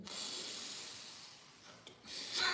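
A slow breath during guided meditation, a soft airy hiss that swells and fades, pauses briefly, then starts again, faint and close.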